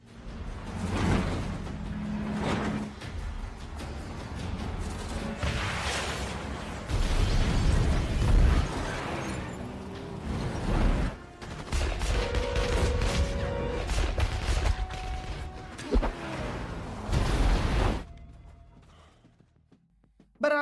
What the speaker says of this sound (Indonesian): hingga terjadi baku hantam dan baku tembak serta ledakan